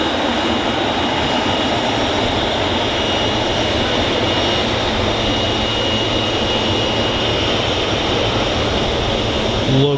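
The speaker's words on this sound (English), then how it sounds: "Love the 777." A Boeing 777 jet airliner at Manchester Airport produces a loud, continuous roar with a steady engine whine that holds for the whole stretch.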